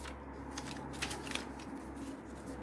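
Paper strips are folded back into small minibooks, giving soft, close crinkling and rustling with a few sharper creases over a low background hum.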